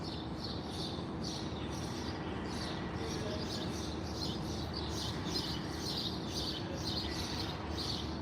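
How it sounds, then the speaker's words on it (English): Early-morning birds chirp outdoors in a Connecticut neighborhood, a faint, repeated high twittering over a steady low hum of distant traffic and ambient noise. "The birds chirping."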